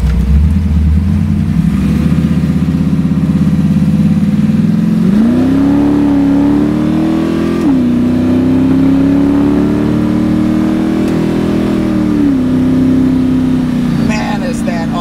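A 1970 Dodge Dart Pro Street slows nearly to a stop and then pulls away in first gear at part throttle, its loud, close engine rumbling low and rising in pitch in steady sweeps while someone talks over it.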